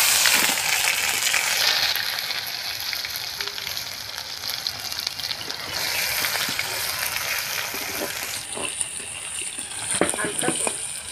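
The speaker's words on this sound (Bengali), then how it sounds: "ভাজা তেলেই আমরা অল্প সামান্য টমেটো কুচি দিয়ে দেব।" Chopped tomato frying in hot oil, a dense continuous sizzle with crackles and occasional stirring scrapes, close and fairly loud throughout, with no talking.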